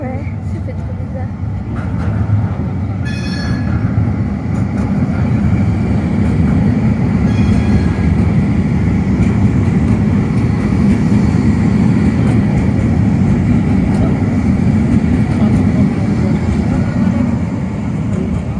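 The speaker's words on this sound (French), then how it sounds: "Il y a le métro qui arrive." A metro train rolls across a bridge, its loud, steady rumble filling the whole stretch with little change in level, while faint voices come and go beneath it.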